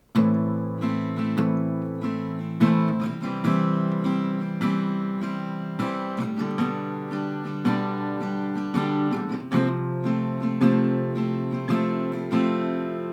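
Guitar strumming a steady chord progression, bright and close, with rhythmic down-up strokes and no voices.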